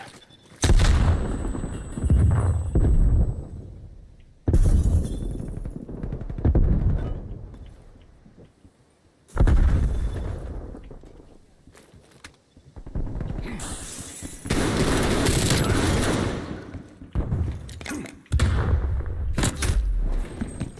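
Video game grenade explosions and gunfire in an online shooter match, loud booming blasts and bursts of rifle fire in repeated heavy surges, close and dense, with little talking.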